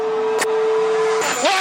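Carlos Sainz's Ferrari Formula 1 car climbing the hill at Monaco in the 2022 Grand Prix, a loud high engine whine that holds steady, breaks off, then shifts pitch as it passes close.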